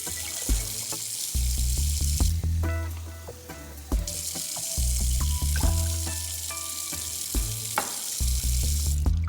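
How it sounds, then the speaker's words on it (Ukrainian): Water poured from a glass into a small one-litre saucepan holding three glasses of sugar for lavender syrup, a splashing, trickling pour with clinks and knocks of kitchenware, fairly quiet and close. "Сюди я насипаю 3 склянки цукру і наливаю 3 склянки води."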